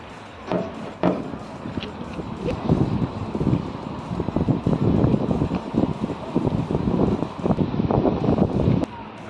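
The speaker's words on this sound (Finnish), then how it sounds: "Tuulee vähän." Strong wind buffets the microphone outdoors at an idol festival convention, a loud continuous roar with gusty bursts throughout.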